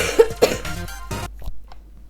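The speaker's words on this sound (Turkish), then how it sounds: "Öksürürken biraz uzağa çekiyorum mikrofonu." A man coughs several times in quick succession close to a microphone during a Brawl Stars gaming session, sharp harsh bursts followed by a faint lone cough after a pause.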